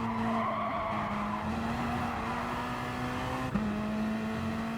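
Gr.3 race cars in a racing video game thunder into Monza's first turn without the chicane, a loud steady engine drone with tire squeal and a brief bump near the end.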